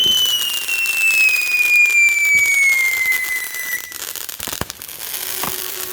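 Backyard Fourth of July fireworks going off: a long descending whistle, then sharp crackling pops and bangs, loud and close, with no talk.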